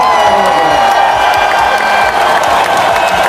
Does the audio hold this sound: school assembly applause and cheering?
yes